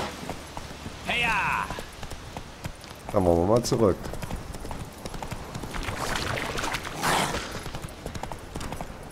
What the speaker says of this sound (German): Pferd, komm her.